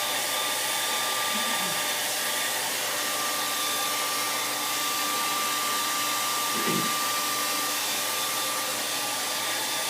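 A hair dryer blows steadily on a watercolor painting, a constant loud whooshing hum that fills the whole stretch without pause.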